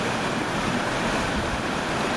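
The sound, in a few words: river water flowing hard during spring thaw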